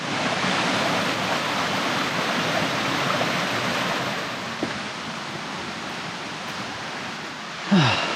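Constant broadband rush of falling water, steady and fairly loud, a waterfall cascade heard from nearby in Girrakool National Park, NSW, Australia, with a brief knock near the end.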